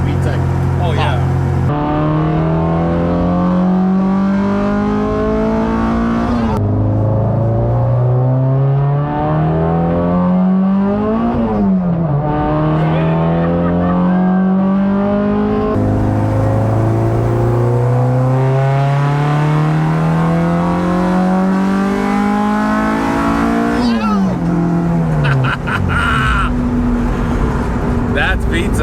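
A K20-swapped ninth-generation Honda Civic engine revs hard through the gears, pitch climbing repeatedly into VTEC before dropping at each shift, loud and close from inside the cabin, with voices talking over it.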